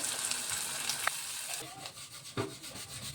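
Onions, green chilies, turmeric and ginger-garlic paste fry in oil in a pan for goat spleen curry, giving a steady close sizzle with scraping stir strokes and a couple of sharper rustling bursts.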